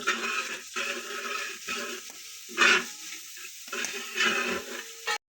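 Onions sautéing with salt in a pan give a steady crackling sizzle, broken by scraping stirs from a spatula, close and fairly loud with no talking.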